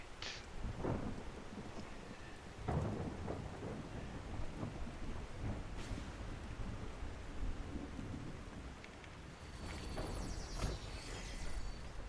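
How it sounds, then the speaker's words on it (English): Rain falls steadily at an oil refinery, and several low rumbles and cracks of thunder roll through it. The downpour is heard up close and outdoors, with no speech. "It's the lovely rain of the new year"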